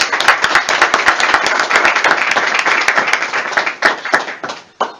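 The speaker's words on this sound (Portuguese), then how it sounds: "Uma salva de palmas à palavra de Deus." A congregation at a Catholic preaching event claps loudly, many close hands in fast irregular rhythm, dense at first and thinning to scattered final claps before stopping.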